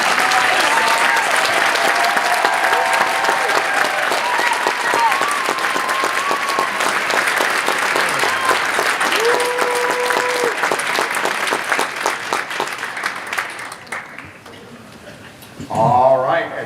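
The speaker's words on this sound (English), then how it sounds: "let's please give one more round of applause to all of our District Teachers of the Year" A crowd at a state Teacher of the Year ceremony gives a loud, sustained round of applause for the district Teachers of the Year. The clapping gradually thins and fades out near the end, and a voice then speaks briefly.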